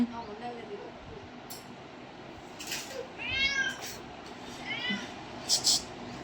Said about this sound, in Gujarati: તે બિલાડી બોલાવો